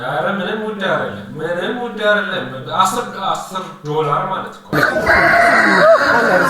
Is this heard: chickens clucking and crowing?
yes